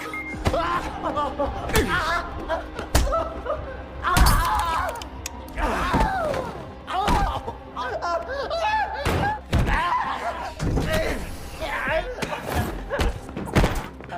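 Punches and blows land in a movie fight scene, a run of sharp thuds and thumps repeating irregularly over a dense score and effects, with grunting voices mixed in.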